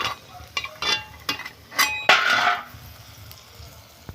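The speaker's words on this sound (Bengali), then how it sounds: "তেলের মধ্যে আমি গাজরটা একটু নাড়াচাড়া করে নেব।" A utensil stirs carrot pieces frying in hot oil in a pan, with scattered clinks and scrapes against the metal over a soft sizzle, fairly close and with no talking.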